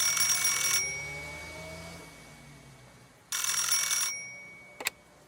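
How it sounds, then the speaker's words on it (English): Telephone ringing with two bright electronic trills separated by a pause, then a short click, heard indoors with no talk. "The phone rang."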